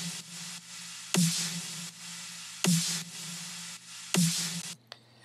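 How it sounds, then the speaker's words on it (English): A dubstep snare sample run through an OTT multiband compressor and a big reverb in a heavy future bass production: three loud, bright, noisy hits about one and a half seconds apart, each with a hissy decaying tail, over a low sustained tone. "the last sample is a dubstep snare"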